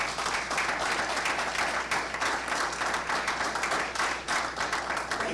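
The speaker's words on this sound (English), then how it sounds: "We have a virtual round of applause for Dr." Applause for Dr. Cairns at a November 2020 corporate breakfast held virtually: a dense, steady patter of many hands clapping that continues evenly throughout.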